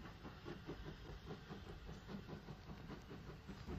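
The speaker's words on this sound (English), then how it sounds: "A train for Hawkhurst leaves Goudhurst, with number 31551 again in charge." Vintage Southern steam locomotive No. 31551 leaving Goudhurst station with a train on the Hawkhurst branch: faint, old-recording rail noise with a steady rhythmic clatter and hiss, alone without speech.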